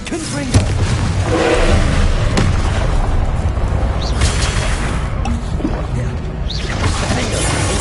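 A Confringo blasting spell bursts in Hogwarts Legacy, its loud explosive boom rolling into a dense crackling rumble of spell effects and combat noise, with a voice speaking over the din.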